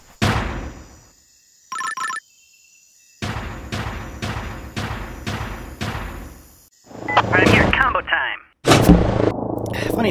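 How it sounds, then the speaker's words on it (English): Cannon in the Henry Stickmin video game, built to fire humans, booming in a run of evenly spaced loud blasts, with a ringing tone early on and clattering effects at the end. "this cannon was actually built to fire humans"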